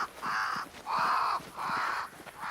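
Crows cawing in Banishers: Ghosts of New Eden, flocking around a great tree: four long, harsh, drawn-out caws in a steady rhythm, each roughly half a second, fairly loud and close with no talk over them.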